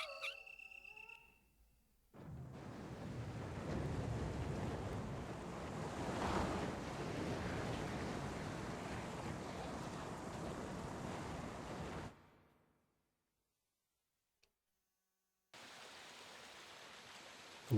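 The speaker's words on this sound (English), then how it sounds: "The water is running down the opposite side." Water runs steadily through a passage in a Resident Evil game, a broad rushing wash that holds for about ten seconds, cuts to silence, then comes back.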